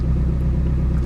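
A Nissan S15 Silvia fitted with an aftermarket muffler idles close by, giving a steady, loud, deep rumble with no pauses.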